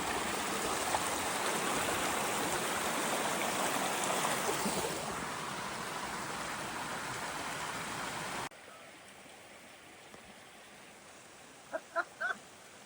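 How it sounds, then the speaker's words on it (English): A stream flows past a river meditation platform in Cornwall with a steady rushing wash of water that becomes quieter partway through, followed by a few short faint chirps near the end. "We can come out into the middle of the river."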